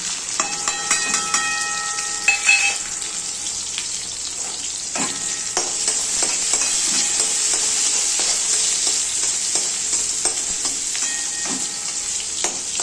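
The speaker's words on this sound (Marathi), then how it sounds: "कांदा चांगला ब्राऊन कलर येईपर्यंत हे होऊन द्यायचं भाजून द्यायचं" Onion frying in oil with garlic and green chilli in a pan, a loud continuous sizzle close up with occasional stirring scrapes and clinks, no voices.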